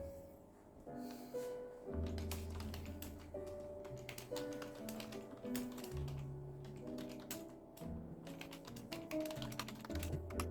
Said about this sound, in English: So let's start with typing with the membrane keyboard.